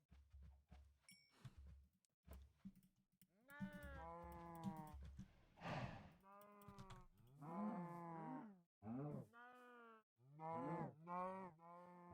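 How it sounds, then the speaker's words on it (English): Several cows moo in Minecraft-based GregTech: New Horizons, a series of drawn-out lowing calls with gaps between them, loud and close, following some soft clicking at the start. "Oh, cows!"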